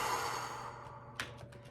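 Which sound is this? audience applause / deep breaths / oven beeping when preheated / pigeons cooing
deep breaths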